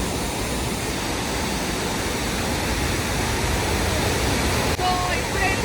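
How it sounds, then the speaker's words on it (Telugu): Heavy monsoon torrent at Happy Waterfalls in Coorg, a steady, loud, broadband roar of rushing water that never lets up, with faint voices near the end. "వాటర్ ఫాల్ కూడా చాలా బాగుంది"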